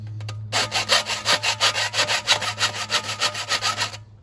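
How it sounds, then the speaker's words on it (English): A metal hand file scrapes back and forth across the burred edge of a hobo stove feed hole cover, about fourteen steady rasping strokes in a quick even rhythm, close and fairly loud, with no talking. "So I'll get my file out and we'll get those off."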